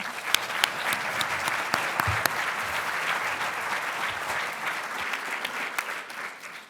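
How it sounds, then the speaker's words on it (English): An audience at a conference panel breaks into steady, sustained clapping that fills the room for several seconds, with a few sharper individual claps standing out, then gradually thins toward the end. "Please give them a round of applause."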